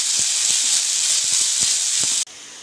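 Ginger garlic paste sautéing with onions in a pan for chilli egg masala, a loud, steady hissing sizzle with soft stirring taps, then the sizzle abruptly drops lower near the end.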